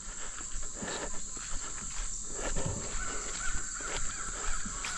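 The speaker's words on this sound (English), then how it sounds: "I heard you, crows." Crows caw intermittently at a distance over a constant outdoor hum and insect buzz, with faint shuffling steps.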